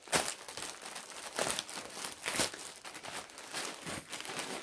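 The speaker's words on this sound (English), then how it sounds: "Trying to find my way into the plastic bag." A plastic bag is crinkled and crumpled while being opened during a subscription box unboxing, close and fairly loud, in repeated bursts of rustling that continue throughout without talk.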